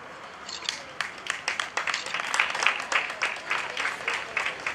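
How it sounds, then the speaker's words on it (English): An audience claps for a graduate at a prison inmates' graduation ceremony in Banjul, scattered claps building into moderate applause, somewhat distant. "A big round of applause for Mariama Conte."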